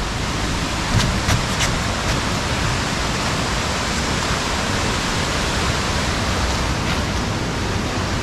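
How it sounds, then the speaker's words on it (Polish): A small waterfall in Devil's Throat Cave, Bulgaria, gives off a loud, steady broadband rush that echoes in the cave and never lets up, with a few faint clicks near the start. "Tam wodospadzik mały."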